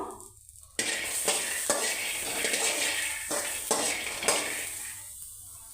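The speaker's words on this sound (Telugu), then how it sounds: "ఇవైతే ఇప్పుడు మనము దూరగా వేయించుకుందాము" Dried coconut dry-roasting in a pan alongside peanuts, heard as a dense, bright rattle and scrape of a spatula across the metal pan, with regular sharp strokes every second or so, close and steady, and no voices.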